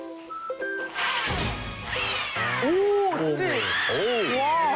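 An electric drill whines in short bursts, its pitch rising and falling as it drives screws into wood while building a chair, with voices speaking in between and over it.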